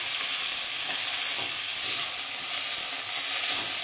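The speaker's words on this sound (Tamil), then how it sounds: "அந்த கீரையை அதில் போட்டு நல்லா வறுத்துக்கிறோம்" Drumstick leaves (murungai keerai) fry in oil in a pan for sambar, producing a steady, even crackling sizzle with light stirring throughout and no talking.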